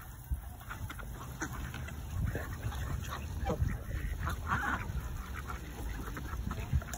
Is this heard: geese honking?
yes